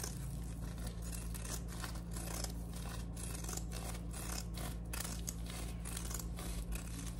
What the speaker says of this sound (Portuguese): Eu vou usar aqui uma tesoura de picote e vou cortar aqui